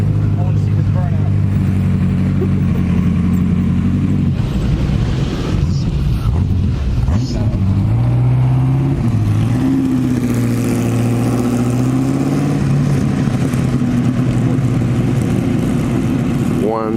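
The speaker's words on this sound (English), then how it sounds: "I want to see this burnout." A Ford GT40 engine revs up and down during a burnout, loud and close with shifting pitch and wind buffeting the microphone, while voices talk over it.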